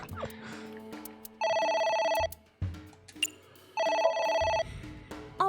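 A telephone rings in AI: The Somnium Files, two loud sustained electronic trilling bursts separated by a pause, with background game music and effects between them.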